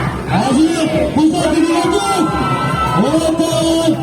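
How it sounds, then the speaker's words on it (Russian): Tourist show audience cheering and shouting, a loud surge of whoops and yells with overlapping voices, while a host talks excitedly over the crowd throughout. "Для вас российские аплодисменты!"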